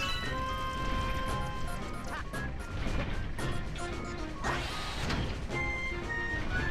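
Mechanical clanks and whacks from screws being tightened on Mecha Bowser in Super Mario Galaxy, sharp metallic hits landing over steady, funky game music, with a louder crash near the end.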